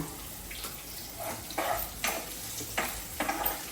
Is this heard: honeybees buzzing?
no